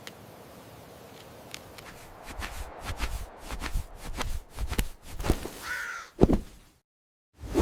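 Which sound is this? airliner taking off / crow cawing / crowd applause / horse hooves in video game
crow cawing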